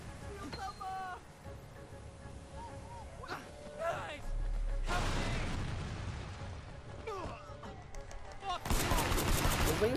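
Gunfire in the video game Sleeping Dogs: scattered shots give way to longer rattling bursts and a dense volley at the end, heard under and between someone talking.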